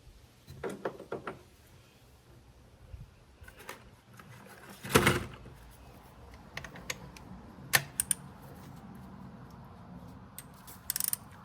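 A ratchet turning out a long-threaded spark plug on a Mazda CX-5, heard as short bursts of close mechanical clicking spread across the stretch with pauses between, no talking.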